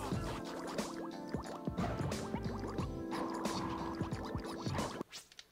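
Water level shifting in Sonic Adventure 2 Battle, heard as rapid dripping, bubbling and gurgling game effects layered over tonal music, ending in a few soft splashes.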